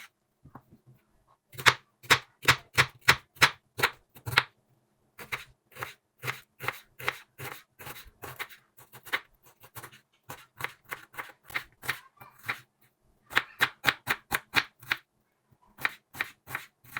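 A knife chopping onions on a board: crisp, sharp taps in quick rhythmic runs of several strokes, broken by short pauses, close and clear with no talk.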